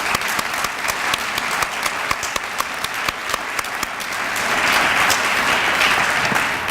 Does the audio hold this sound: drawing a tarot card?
no